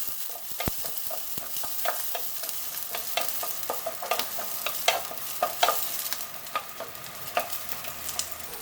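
Garlic sautés in a pan for pinakbet, a Filipino vegetable dish, with a continuous close crackling sizzle and frequent scraping taps of a spatula stirring throughout.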